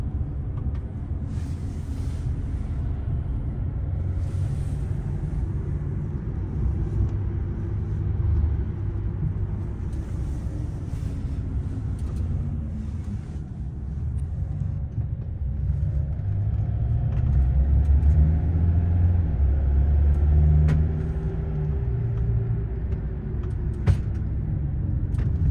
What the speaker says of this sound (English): We're on the taxi for the fun ride over to Ville Vie.